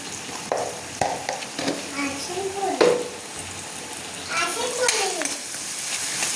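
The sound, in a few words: stirring chickpea usal with turmeric in a pan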